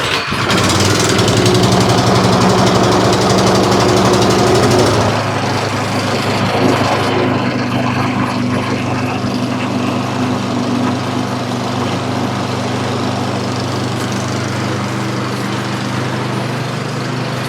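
A small gasoline snowblower engine with the choke fully open, just primed with a cleaned spark plug, runs loud and steady up close with a rough, buzzing drone that dips slightly after a few seconds and then holds even.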